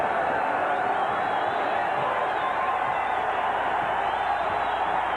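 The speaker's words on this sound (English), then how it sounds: "The crowd getting into it." A basketball arena crowd in a 1992 Rockets vs Warriors game roars continuously, a dense wash of cheering and shouting that holds steady at high level, with a commentator's voice blended in.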